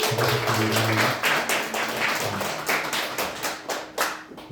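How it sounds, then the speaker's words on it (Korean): A church congregation claps during a Sunday worship service to welcome a new member. The clapping is moderately dense and nearby and gradually thins out, with a voice briefly heard at the start. "우리 신현숙 우리 집사님 박수로 환영해 주시기 바랍니다."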